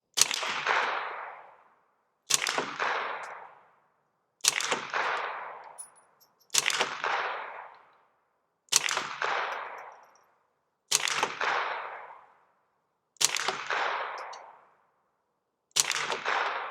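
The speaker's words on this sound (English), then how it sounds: "We're just gonna shoot a little group here." Eight single gunshots from a Ruger 10/22 rifle fitted with a Manticore trigger, fired at a steady pace about two seconds apart, each a sharp crack with a short ringing decay, with no talk.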